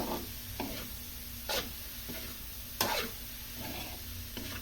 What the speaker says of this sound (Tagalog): Just mixing.